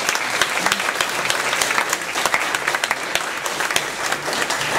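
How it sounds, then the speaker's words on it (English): An audience applauds two debaters at the close of a school Constitution Day debate on gerrymandering, a steady, even wash of many hands clapping together throughout, with no voices over it. "Please join me in giving them another round of applause."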